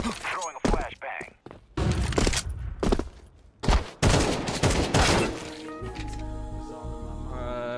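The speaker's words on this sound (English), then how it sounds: "Throwing a flashbang." A flashbang grenade is thrown in a video game amid loud, dense bursts of gunfire and heavy thuds, ending in a sustained tonal ringing, with a voice talking at times.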